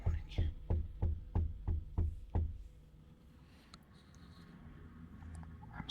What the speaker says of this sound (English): He's literally knocking on my truck.